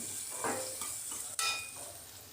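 Tomato and red chili powder stirred into hot oil in a pan while cooking a pigeon pea dish: a soft steady sizzle with a few scraping strokes of a spoon, quiet and close, with no talking.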